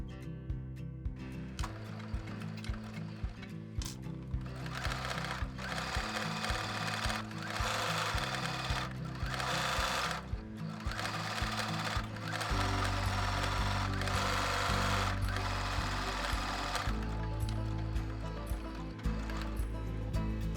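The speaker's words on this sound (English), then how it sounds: "bring it over to your sewing machine and sew 1/8 inch away from that folded edge" A sewing machine runs almost continuously, a fast mechanical whirring and rattling stitch that pauses only briefly, close by and steady in volume.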